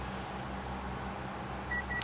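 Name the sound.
autopilot altitude alert beep in aircraft cockpit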